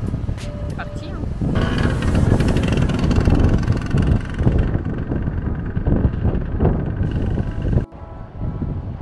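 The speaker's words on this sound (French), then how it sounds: "Il y a un vent par ici" Strong wind buffets the microphone along the Apulian seaside, a steady low roar with gusts, mixed with passing engine noise from cars in the narrow streets and voices talking over it.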